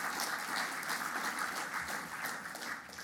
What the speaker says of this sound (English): Come on, give yourselves a round of applause.